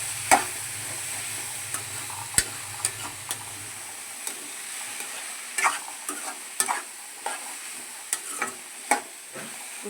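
Food fries in hot oil with a soft, steady sizzle, broken by irregular clicks and taps of a utensil stirring the pan; a low hum sits underneath for the first few seconds.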